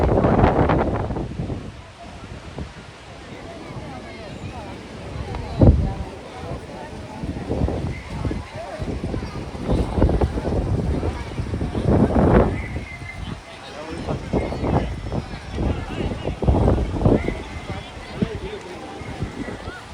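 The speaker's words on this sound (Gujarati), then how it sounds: "કરંટ એટલે આ પવન આંચકા આવે ઈ" Gusty wind at sea aboard a boat, buffeting the microphone in loud irregular bursts while people talk over it.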